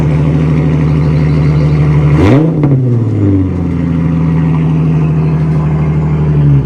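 A car engine and exhaust rumble steadily and loud at close range, with a brief rev that rises and falls in pitch before settling back to a deep, even idle drone.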